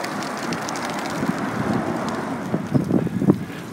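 Blustery wind roars against the microphone during a foggy bike ride near Devil's Slide, a steady rushing noise with gusty bursts growing rougher toward the end, no voices.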